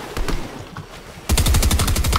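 Rapid bursts of automatic gunfire in Fortnite, dense and loud, jumping sharply in level partway through into a steady rattling string of shots with no talk over it.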